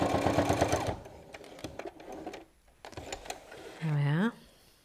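A sewing machine stitches a square cushion pad in short runs, a rapid mechanical whirring that stops and starts between pauses, with a person talking nearby between the bursts.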